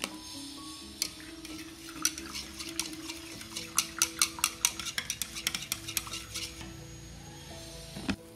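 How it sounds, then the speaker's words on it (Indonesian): A spoon stirs one packet of Kara coconut milk mixed with 400 ml of water in a bowl, making a steady run of rhythmic clinks and scrapes, close and fairly soft. "diaduk-aduk rata aja."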